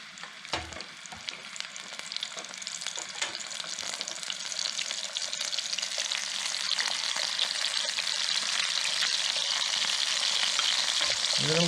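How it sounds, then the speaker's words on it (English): Glazed tilapia fillets laid glaze side down into hot oil in a pan, giving a steady crackling sizzle that builds louder over the clip, with occasional utensil clicks and no talking. "I've got my oil ready in my pan. I'm going to put the glaze side down."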